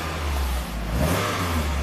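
A Toyota Celica engine, serviced for a cooling fan that stays on, is revved steadily at close range, a loud continuous mid-pitched roar that rises slightly midway.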